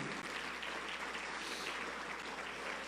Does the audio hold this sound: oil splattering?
no